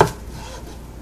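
A knife chops half an onion on a cutting board in a home kitchen, making one quick, sharp cut close by that fades into quiet.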